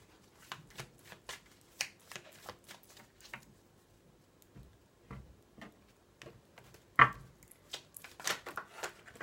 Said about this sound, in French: Oh, j'ai trop de cartes qui sont tombées.